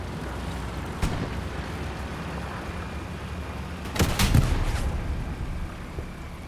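Rocket and gunfire in the Hell Let Loose video game, a winter war match: a sharp shot cracks early, then a heavier blast with rumbling decay follows, over continuous battlefield background noise.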